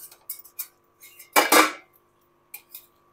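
A pot lid is lifted off vegetable biryani: a few light metallic clinks, then one loud scraping clatter of the lid against the pot rim, followed by two more faint taps, close and alone.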